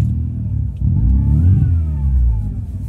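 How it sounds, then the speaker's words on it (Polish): A Volkswagen Passat B5 running on LPG starts up and revs, its deep engine rumble rising and falling once, loud and close. "Także Mikołaj, odpalaj autko"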